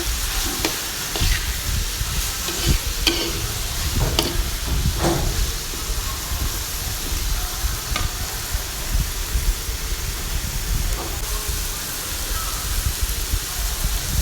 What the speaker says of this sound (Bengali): পেঁয়াজটা দিয়ে চিংড়ির সাথে ভালো করে নেড়ে নেব